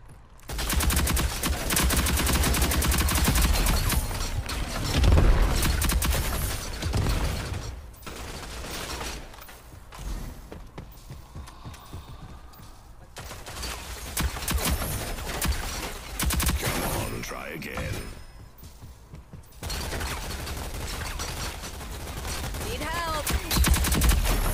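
A light machine gun fires long, rapid bursts in the online shooter Rogue Company, close and loud, with brief pauses between volleys and other weapon sounds mixed in.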